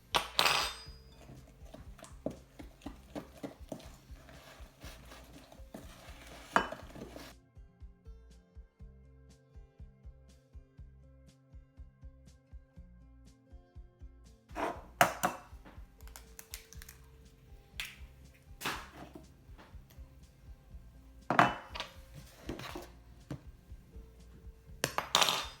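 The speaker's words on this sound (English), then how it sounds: "So we just want to beat this until it's nice and smooth." Sticky toffee pudding batter with gravy browning and flour is beaten in a bowl, giving rapid clicking, tapping strokes of a utensil against the bowl in bursts separated by quieter stretches, close and without talk.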